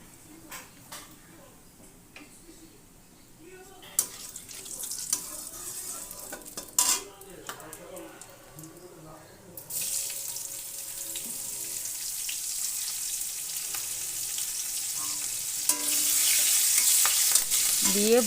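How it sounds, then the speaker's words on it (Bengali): Green chilies sizzle in hot oil with whole cumin while a spoon stirs them, the frying hiss swelling louder and steadier partway through, with occasional clinks of utensil against the pan. "এবার এতে দিয়ে দিলাম কাঁচা লঙ্কা কেটে রেখেছি,"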